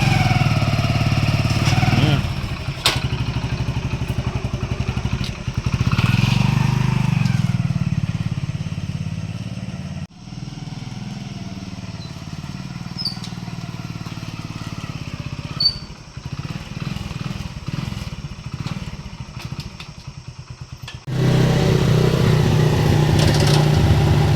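Motorcycle engine running close by during a home Ayudha Puja festival, a steady loud rumble with clattering, dipping quieter midway and swelling again near the end, no talk over it.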